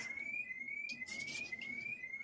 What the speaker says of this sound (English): That's not my alarm.